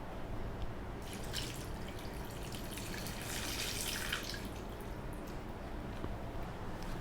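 Water splashes and trickles into a pot of chicken adobo with vinegar and soy sauce in a steady pour, with a brighter rushing stretch in the middle, over a low background hum.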